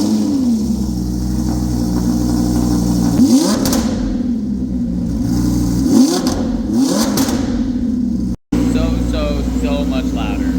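A Lamborghini Huracan fitted with a titanium HMD exhaust revs loudly and close, its engine note rising and falling over several blips above a steady idle, with people talking underneath.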